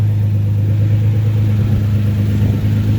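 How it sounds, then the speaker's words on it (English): A Nissan GT-R fitted with an Overtake titanium exhaust and AMS downpipes idles or runs with a deep, steady low rumble, loud and close, with no talk over it. "That's the Overtake exhaust with the AMS downpipes."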